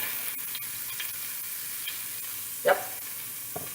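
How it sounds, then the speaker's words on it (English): Mushrooms sizzle and crackle steadily in a hot pan, with a spoon stirring and scraping now and then and a brief word spoken. "Ooh, it's sizzling."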